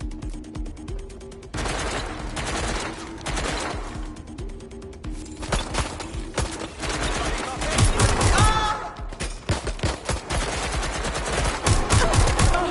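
Rapid bursts of automatic gunfire from the Watch Dogs Legion video game rattle loudly in repeated volleys, mixed with mechanical clicks and reloading clatter, with occasional game voices in the background.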